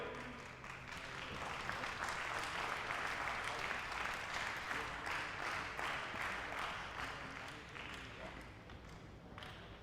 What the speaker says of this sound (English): Please give a big round of applause for the medal winners who are walking towards the podium